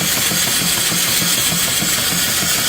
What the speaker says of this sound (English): it's running at about 200 RPM at the flywheel, which is minimal, and about 1200 RPM on the alternator